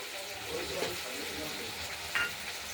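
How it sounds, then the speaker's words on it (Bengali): Spice paste with turmeric frying and being stirred in a wok for a Bengali rohu fish curry: a steady, close sizzle and hiss with soft stirring scrapes. "কষানোর জন্য আমরা কড়াইতে দিয়ে দিলাম।"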